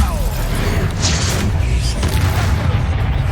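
Bombarda explosion spell blasting in Hogwarts Legacy, a loud, dense booming burst that fills the whole stretch with crashing rumble, a voice talking over it.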